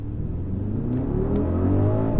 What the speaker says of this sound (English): I'm gonna launch it, you know, just in power braking out of the hole